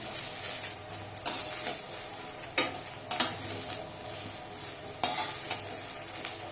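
Ridge gourd peel paste fries in a pan with a soft steady sizzle, broken by several sharp scrapes and taps of a spatula stirring against the pan.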